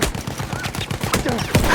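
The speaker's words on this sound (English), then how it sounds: "This version of the Mosin Nagant was unscoped and it fires very quickly" Rapid, loud rifle shots from an unscoped Mosin Nagant in Battlefield 1, cracking in a quick rhythmic string of about a dozen reports close up, with a sharper blast near the end.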